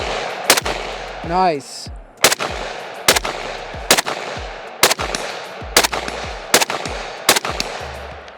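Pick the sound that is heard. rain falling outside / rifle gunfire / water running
rifle gunfire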